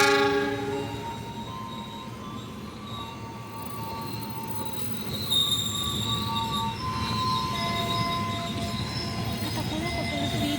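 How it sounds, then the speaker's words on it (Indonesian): A train passes straight through Juanda station on track 2 without stopping, its wheels squealing and the rail noise sustained and loud throughout, with a horn-like tone near the start. "hati-hati jalur 2 dari arah utara kereta api melintas langsung"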